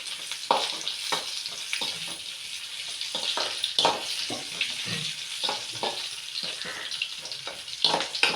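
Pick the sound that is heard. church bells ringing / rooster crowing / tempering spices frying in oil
tempering spices frying in oil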